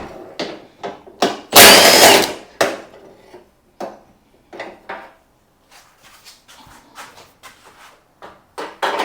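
A power tool spinning bolts off a washing machine, with a loud burst of whirring followed by short intermittent clicks, clatters and brief tool bursts, close and otherwise quiet.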